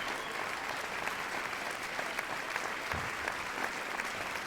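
Applause from an awards-show livestream celebrating a batch of games: a fairly quiet, continuous wash of many hands clapping, steady throughout with a few slightly sharper claps standing out.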